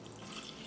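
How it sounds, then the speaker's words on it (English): Water pours from a tap into a pressure cooker holding moong dal, salt and turmeric, making a steady, close splashing stream that continues without a break. "Add water."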